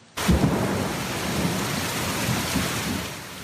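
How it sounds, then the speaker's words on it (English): A severe summer thunderstorm in eastern Ontario starts abruptly with a loud crack of thunder, then heavy wind-driven rain roars steadily and close, blowing sideways, with faint rumbles underneath and no voices. "Intense rain blowing sideways."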